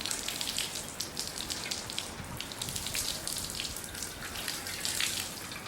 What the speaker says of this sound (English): I'm going to add some water to rinse off the barbecue grill